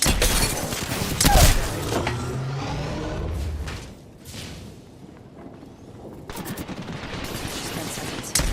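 Video game gunfire in a battle royale match, loud rattling bursts at the start that thin out into quieter distant shots and rumbling, with a voice briefly talking over it.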